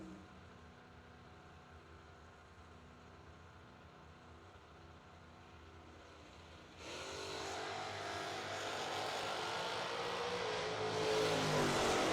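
An 86 Camaro and a Mustang run side by side in a drag race, starting with a distant engine drone before a sudden loud surge of roaring engines that builds and holds to the end.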